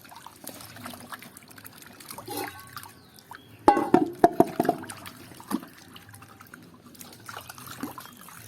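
Peeled cassava root is washed by hand in water, with soft splashing and trickling that swells into a brief burst of louder sloshes and drips before settling back to quiet dribbling.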